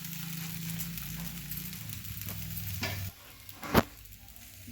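Dosa batter frying on a pan sizzles steadily and close up, with a low hum at first, then quieter crackling and one sharp tap near the end.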